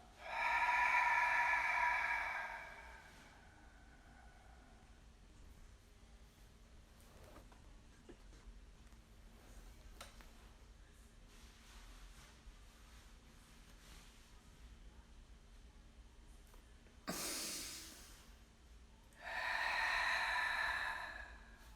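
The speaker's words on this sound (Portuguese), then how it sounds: "Inspira, solta o ar. Inspira." A person breathes in and exhales forcefully during a breathing exercise, with loud breathy bursts at the start and the end and quieter breaths in between, with no talking.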